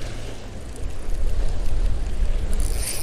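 Strong wind at a Texas shore while fishing from land, a steady loud rumbling gust buffeting the microphone, with surf-like noise underneath and no talk.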